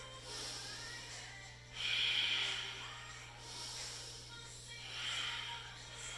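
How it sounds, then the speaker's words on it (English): Slow, soft Ujjayi breaths during a yoga flow, a hushed throaty rushing that swells and fades over several seconds, faint and close over a steady low hum, with no talking. "Breathe. 1 to 3 Ujjayi breaths."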